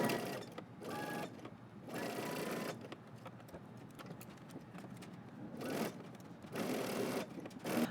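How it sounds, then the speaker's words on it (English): A domestic sewing machine runs in several bursts, stitching a sleeve seam on a knit top with a 5/8-inch seam allowance, its fast rhythmic whir starting and stopping with short pauses between runs. "now we're going to go ahead to the sewing machine and we're going to stitch all the way around using 5/8 of an inch seam allowance"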